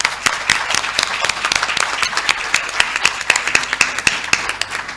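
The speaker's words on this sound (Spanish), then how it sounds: "Bueno, aplaudimos a esta mesa." A symposium audience applauds a panel with sparse, distinct claps, a moderate group of hands beating in an uneven rhythm close by.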